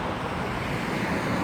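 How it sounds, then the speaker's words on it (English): A car drives past on a New York City street, a brief, loud, steady broadband rush close by. "there's a car driving past"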